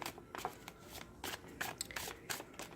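Close, crisp shuffling of a new Arcanum Tarot card deck, several riffling bursts in quick succession with short pauses.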